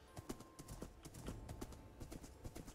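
Donkey hooves in the Minecraft video game, a quick run of light, rhythmic clip-clop steps repeating evenly at low volume, with no speech over them.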